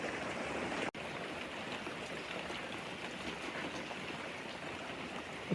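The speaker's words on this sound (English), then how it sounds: "you can see where the rain's dripping down" Rain falling and dripping off the slate roof of a Japanese tea house onto the ground below, a steady dense patter with no talking, broken by a brief dropout about a second in.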